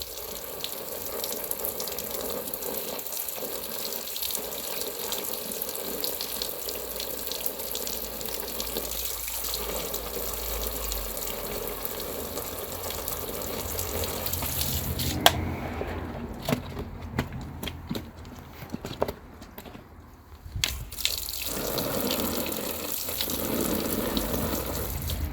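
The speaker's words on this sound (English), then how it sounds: "So let's go and do some water testing." Garden hose spraying water onto a waterproof roll-top tool roll, a continuous hissing rush that changes as the stream is moved, briefly thinning and spattering midway before resuming steadily.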